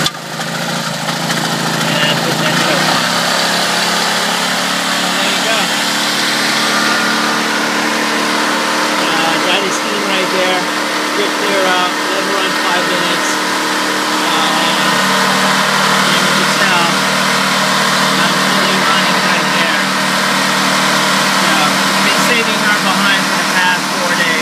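A pull-start emergency generator engine runs continuously at a steady mid-pitched idle, loud and close, with a person talking over it at times.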